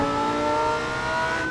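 A McLaren's engine in a racing video game revving on a downshift, a loud sustained harmonic whine that holds steady and dips slightly before climbing again, with no talk over it.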